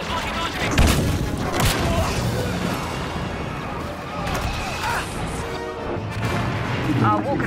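Explosions and blasts rumble around a walker under fire in a Star Wars game assault. The battle noise is dense and continuous, with booms, crashes and gunfire layered throughout, and voices are heard amid the fighting.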